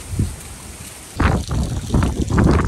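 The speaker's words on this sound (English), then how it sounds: "the rain is here." Rain sets in at a Kentucky homestead during a windstorm: a faint patter first, then louder rushing bursts of falling water that come and go close by.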